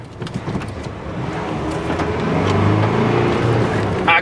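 A Volkswagen Amarok pickup accelerating hard, its engine note climbing from a low rumble into a strong, rising drone heard from inside the cabin, with no talk over it.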